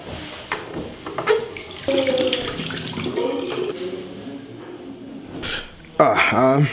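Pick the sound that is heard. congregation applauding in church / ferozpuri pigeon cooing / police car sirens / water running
water running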